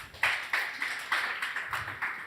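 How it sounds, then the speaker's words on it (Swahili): Light applause for a speaker named Wanjiru at a talk on funding a feminist economy, a small audience clapping in uneven bursts for a couple of seconds with no voices over it. "Tunaweza pigia Wanjiru makofi."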